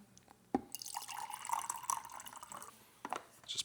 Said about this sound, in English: we're going to fill this with water up to the line.